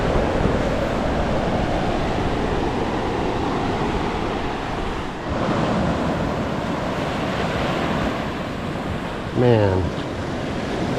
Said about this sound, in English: the surf isn't big, so but it'll still get you if you're not careful